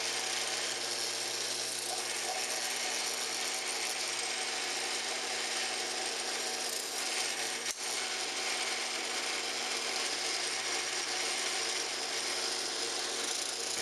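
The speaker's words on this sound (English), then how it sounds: "Now I use an 1/8 inch drill bit to drill pilot holes for all the holes." Steady, loud broadband whirring hums without pause as an electric drill with a 1/8 inch bit drills pilot holes for flush-mounted turn signals on a Ninja 250 motorcycle, with no voices.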